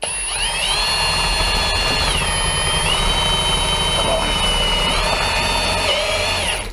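A drill fitted with a DeWalt DT7513T bit whines loudly and continuously up close, its motor pitch dipping and rising as the bit spins freely.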